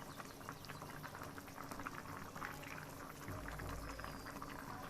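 Pabda fish curry with vegetables simmering in a pot, a soft continuous bubbling and gurgling broth that thickens briefly toward the end, quiet and close.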